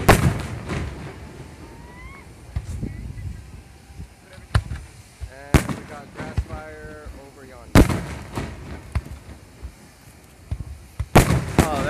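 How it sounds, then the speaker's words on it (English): Fourth of July fireworks over a grass-fire scene on Padre Island go off in sharp, scattered bursts of varying loudness, some near and some farther away, with crackling and whistling in between and occasional voices. "With the fireworks."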